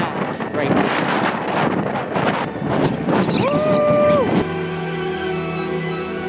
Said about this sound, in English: Winds are up to 50 to 60 knots right now.